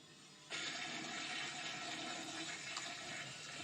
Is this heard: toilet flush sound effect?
yes